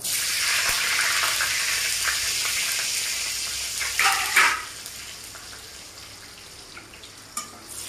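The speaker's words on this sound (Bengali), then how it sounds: "এভাবে রসুনটাকে ভেজে নিতে হবে" A whole garlic bulb fries in hot oil in a pan, giving a steady close sizzle with a few louder crackles and pops partway through before it settles to a softer hiss.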